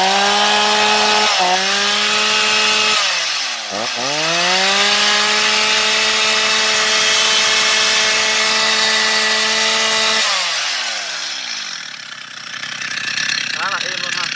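A Stihl 021c chainsaw engine, German-made, runs steadily close up with a sustained buzzing drone, its pitch dipping and rising several times as the throttle changes, then winding down near the end.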